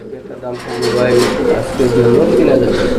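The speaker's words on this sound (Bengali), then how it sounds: "এখানে আরও এক জোড়া কবুতর এটা সিরাজি কবুতর" Pigeons coo close by at a pigeon farm, soft throaty rolling calls repeating throughout while someone speaks over them.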